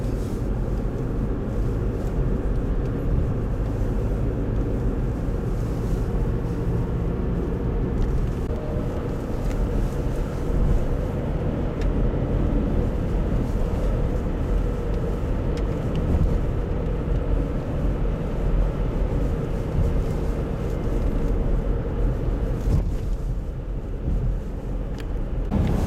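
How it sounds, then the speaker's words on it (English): A car driving north on Provincial Highway 138 in Quebec through heavy 2008 snowfall, a steady low rumble of engine and road noise that stays loud and even throughout with no voices. "Driving north on Provincial Highway 138 now, and we're just driving up a little further north"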